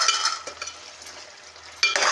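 Chicken curry with kasuri methi is stirred in a pan: soft scraping and light metallic clinks of a spoon, quiet between two brighter bursts of stirring at the start and end.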